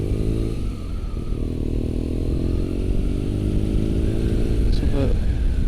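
A BMW R nineT motorcycle being ridden through traffic near Invergowrie, its steady engine drone loud and continuous throughout with rising and falling harmonics as it accelerates, plus a brief higher whine near the end.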